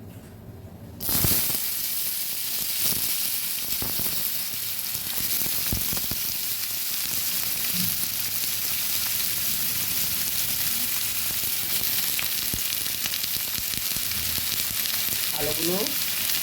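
Chopped potatoes hit hot oil in a wok with a sudden loud burst of sizzling that settles into a continuous, dense frying hiss with occasional stirring scrapes, close and steady for the whole stretch.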